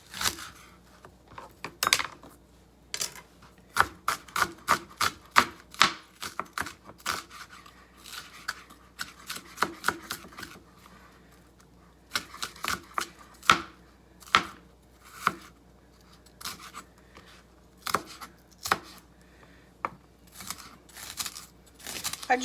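A knife chopping a shallot on a cutting board, irregular sharp taps and crisp cuts in quick clusters and single strokes, close and clear with no talk.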